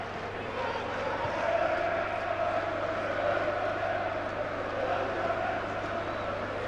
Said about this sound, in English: those are Bolton fans who are trying to match the enthusiasm of their Greek counterparts